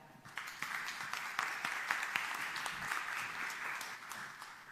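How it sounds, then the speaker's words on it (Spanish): Audience applause at a talk on open data, steady clapping from a crowd in a room, moderately faint and continuous throughout. "Dejo con ustedes, con este gran aplauso, al señor José Mora."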